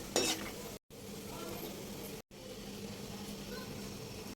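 Nuts frying in hot oil in a pan with a steady soft sizzle, a scrape of stirring at the start, close and low in level.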